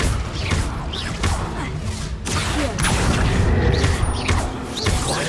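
Spells cast in Hogwarts Legacy burst out as a string of booming blasts and whooshing impacts, several heavy hits landing in quick succession at a moderate volume.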